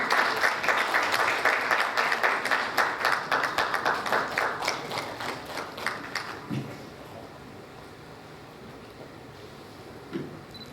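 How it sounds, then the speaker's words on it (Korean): An audience at a Korean community council ceremony applauds for a congratulatory speaker, dense rapid clapping that swells early then thins and fades over several seconds into room noise with a few stray claps. "큰 박수로 운영위원님 부탁드려요"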